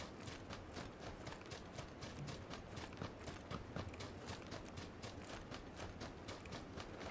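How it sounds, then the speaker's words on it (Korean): Nearby footsteps in the battle royale game PUBG, a steady run of soft repeated thuds and scuffs close by, continuing evenly throughout without voices. "내 옆에 발소리 나는데?"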